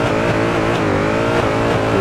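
A V8-swapped Mazda Miata MX-5 in the CarX Drift racing game revs hard and steadily for two seconds, its engine note loud and close with rising and falling pitch as the throttle works, and no voices over it.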